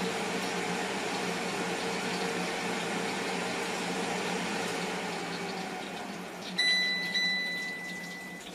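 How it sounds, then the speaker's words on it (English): Philips Airfryer XL cooking chicken wings, a steady whirring fan hum with a soft frying crackle inside the basket, constant and close, ending with a brief metallic clink or beep. "You can smell the chicken and actually hear it cooking inside,"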